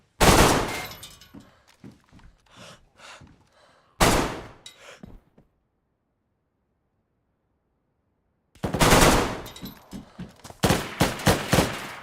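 Bursts of video game gunfire, loud close rapid shots in clusters broken by a long silent gap, with no talking.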